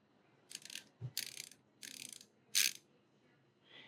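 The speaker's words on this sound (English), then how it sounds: "Okay, that ratcheting, that's pretty nice." Ratcheting mechanism of a transparent screwdriver clicking in four short, crisp bursts with a light knock between them, close and alone in a quiet room.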